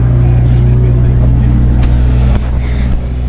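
A modified race car with a huge oval exhaust, at a race week at Brainerd International Raceway, rumbles loudly up close with a deep, steady, throbbing engine note.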